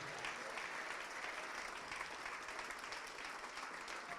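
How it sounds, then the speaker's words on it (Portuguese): A church congregation claps continuously and evenly throughout, a dense, steady wash of applause with no pauses. "Vamos aplaudir mais ao nome de Jesus."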